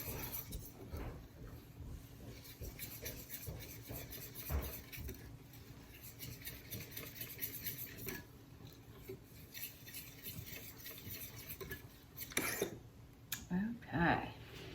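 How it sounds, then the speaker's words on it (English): A spoon stirs thickening homemade barbecue sauce in a pot with soft scraping and occasional clinks against the rim, faint and intermittent, while a person talks over it. "So get it stirred up and I'll show it to you."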